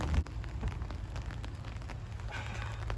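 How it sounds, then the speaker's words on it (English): Steady rain patters on surfaces outdoors in Northeast Ohio, a dense, even hiss with no voices. "And it's raining."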